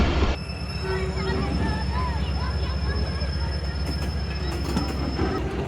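Shalimar Express train running on rails, close and loud with steady low rumbling, rhythmic wheel clatter and a high squealing whine sustained throughout, a voice briefly heard over it.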